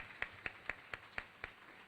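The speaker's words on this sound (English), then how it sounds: "So clap for them, please." A single person claps slowly at an arts advocacy conference, six sharp, evenly spaced claps, each a brief isolated crack against a quiet room, with no talking over them.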